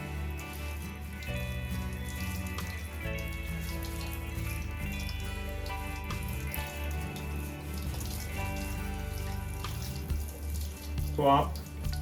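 Water runs and splashes into a kitchen sink after utensil scrubbing, a continuous close stream with dripping and clatter under a low hum.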